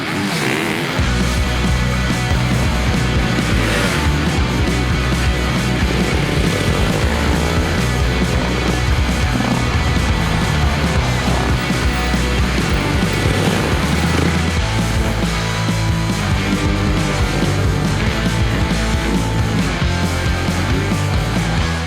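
A GASGAS MC 450F four-stroke dirt bike engine roars continuously while being ridden, loud and close, with throttle surges and revving held at high intensity throughout the run.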